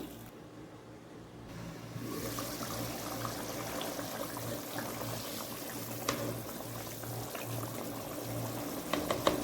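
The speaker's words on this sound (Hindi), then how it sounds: "जितनी हमारी दाल थी उतना ही हम पानी डालेंगे" Water is poured into a pot of mash (urad) daal for cooking, a continuous splashing gush that builds after a quiet start and runs steadily at close range, with no talking.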